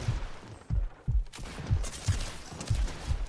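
Rapid shotgun blasts ring out in a video game firefight as paired pump shotguns are fired, a series of sharp booms at close range coming about every half second, with some louder crackling bursts midway.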